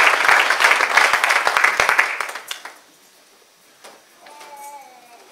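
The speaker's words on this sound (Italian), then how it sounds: "un applauso al nostro presidente Moretti Paolino Nicola." Audience applause after an autumn choir concert run by a local pro loco fills the opening, loud dense clapping that tapers off near three seconds into quieter room sounds with a faint tonal hum.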